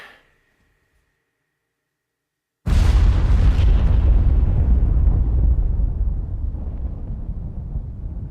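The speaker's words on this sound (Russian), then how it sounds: "В левую руку гранату, ближе к груди выдернул чеку." Airsoft grenade going off in an outdoor game after the pin is pulled: one sudden loud boom after about two and a half seconds of near silence, followed by a long rumbling, gradually fading wash of noise.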